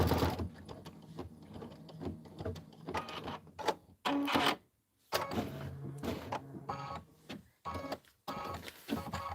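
Embroidery machine stitching a Kimberbell Valentine bench pillow block, a dense stitch-intensive design, running in steady mechanical bursts with short pauses and a few brief louder whirs, close and fairly loud.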